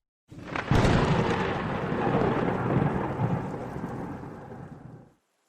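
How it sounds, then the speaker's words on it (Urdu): A thunderstorm with heavy rain: a loud, close crack of thunder opens into a long rolling rumble over a steady roaring downpour, which then stops abruptly. "ہوا تیز تھی، بارش اور طوفان میں بھی تیزی بڑھ گئی۔"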